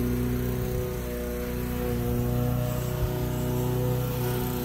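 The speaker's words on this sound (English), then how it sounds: "Sorry for the background noise, the neighbors cutting the grass." A neighbor's lawn mower cutting grass drones steadily in the background, a constant engine hum with a mild waver, moderately loud and unbroken throughout.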